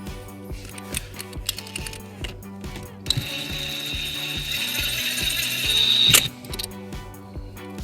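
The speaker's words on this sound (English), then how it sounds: "And then we'll secure it with a 10mm socket." Hand ratchet with a 10mm socket tightening an M8 nut during a trailer wiring harness install on a 2013 Toyota Highlander, a series of close, crisp clicking pawl sounds in bursts, louder near the end, with no talking.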